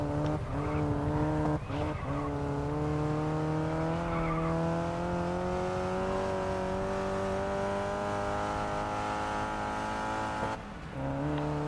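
Volkswagen open-wheel race car in GRID Legends, its engine droning in a steady high whine under a long, continuous tire screech through a corner, with a brief dip near the end.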